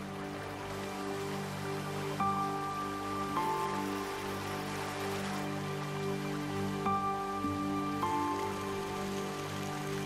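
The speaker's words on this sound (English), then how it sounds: "The rains which fall give the islands a plentiful supply of fresh water" Steady rain hisses down on a Caribbean island, a dense continuous patter with low droning tones underneath and no talk.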